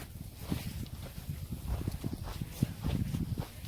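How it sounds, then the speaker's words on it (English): A flock of sheep walks past outdoors on a summer trip, a soft patter of many hooves shuffling in an uneven rhythm, faint and moderately close, with no voices. "And here come the sheep."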